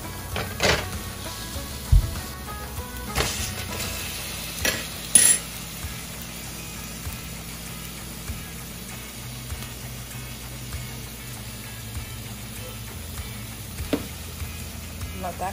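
Meat searing in a very hot pan makes a faint, steady sizzle, with a few sharp utensil knocks early on and near the end.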